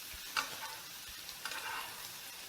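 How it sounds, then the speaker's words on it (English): Scored duck breast searing fat side down in a hot pan, a soft continuous sizzle with a couple of brief louder crackles and pops. "The duck breast is cut a bit into squares, patterns, and angles, and it's seared really along the fatty side."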